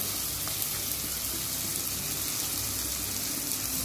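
Onion and tomato sauté in a pan for a drumstick-leaf lentil kulambu, producing an even, moderate hiss that carries on steadily without a break.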